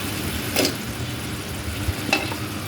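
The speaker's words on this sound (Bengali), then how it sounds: "এখন এই মশলাতে দিয়ে দিব আমড়াগুলো।" Hog plums drop into a pan of spice paste that keeps up a steady low sizzle, with a couple of brief stirring scrapes over the continuous frying hiss.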